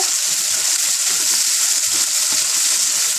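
Chopped onion sizzles loudly in a tablespoon of oil over high heat, a steady bright frying hiss running throughout with low clunks of a quick stir underneath.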